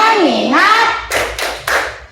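A class of children performing the tepuk fokus clapping game: a chanted call with voices rising and falling, then three crisp synchronized hand claps in rhythm, near and loud.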